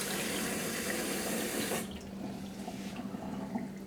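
Hot water pours from a kitchen tap for cooking red beans and rice, a loud steady rush that cuts off partway, leaving a quieter drip and gurgle.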